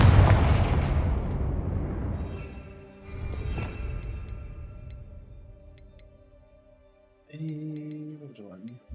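Confringo fire spell explosions in Hogwarts Legacy: a loud booming blast that rumbles and decays, a second crackling burst around three seconds in, then quieter ticking and a tonal game sound near the end.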